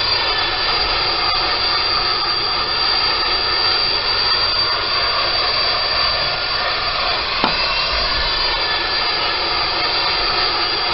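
A steady, loud jet engine roar fills the cabin of an aircraft landing on a desert airstrip, continuous and unbroken, with a brief thump partway through.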